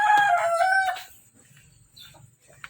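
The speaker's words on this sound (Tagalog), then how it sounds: "Yung mga manok dito." Rooster crowing loudly up close for about a second, with its harmonic call rising and falling, followed by quieter low clucking from farm chickens that are laying eggs.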